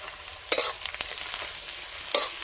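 Crushed peanuts go into hot oil with panch phoron, giving a close, steady sizzle with two sharper bursts of crackle as the nuts hit the pan, and no talking.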